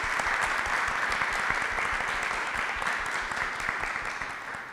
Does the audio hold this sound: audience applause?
yes